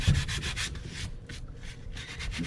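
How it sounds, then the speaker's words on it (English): Glue being rubbed off a book cover in quick, steady scrubbing strokes, close and fairly loud, with no voices. "So first we clean up our glue in the spaces where it got."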